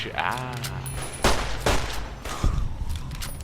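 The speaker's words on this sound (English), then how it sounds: "That gun also has a very nice rate of fire" Rapid gunfire from a favourite weapon in Fallout: New Vegas, several sharp bursts spaced across a few seconds over steady game background noise, moderately loud.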